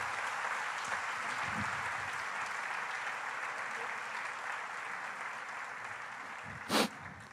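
Church congregation applauding for Jesus during a sermon, a steady wash of hand claps held at an even level throughout, with a brief louder knock near the end.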